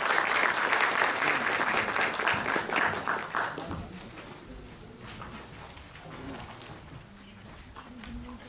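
Audience applause welcoming the mathematician Ayhan Çitil to the stage at a mathematics and philosophy workshop: dense clapping from a hall full of people that is loud at first, then thins and fades to scattered claps and murmuring.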